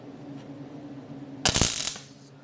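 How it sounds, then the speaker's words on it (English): A MIG welder tacks a thin sheet-metal fuel filler neck on a 1951 Ford 1-ton short-bed step side truck: one close, sharp crackling burst lasting about half a second, over a low steady hum. "I'm just tacking the filler neck in"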